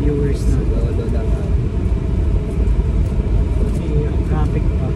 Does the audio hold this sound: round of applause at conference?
no